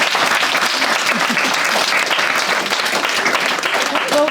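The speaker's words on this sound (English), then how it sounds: "give a big round of applause to our panel" Audience at a book launch panel discussion on introversion applauding the panel, a loud continuous spread of clapping from many people that carries steadily throughout.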